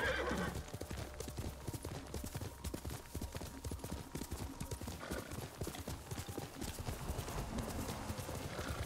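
In Ghost of Tsushima, a horse's hooves clop in a quick steady rhythm as it rides, with a clear neigh near the start, all at moderate volume with game ambience behind.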